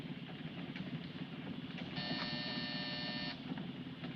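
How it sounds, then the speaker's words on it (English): A door buzzer in a 1952 film noir gives one steady, harsh electric drone lasting just over a second over a low background rumble. "Hit that buzzer."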